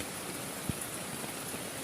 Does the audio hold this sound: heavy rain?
yes